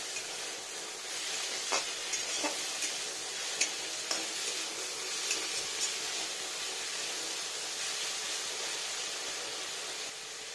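Turmeric-coated tiger prawns fry in a pan with a steady, soft hiss of oil, broken by a few brief pops and light clicks of stirring.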